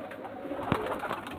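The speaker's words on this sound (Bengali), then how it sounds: "এই দুটো ফেন্সি পায়রা" A pair of satin fancy pigeons cooing at a pigeon sale, a soft low coo rising briefly out of faint background noise, fairly quiet and close.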